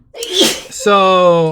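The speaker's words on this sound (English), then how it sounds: "Bless you." A single sharp human sneeze bursts out close and loud, followed at once by a short spoken word from a nearby voice.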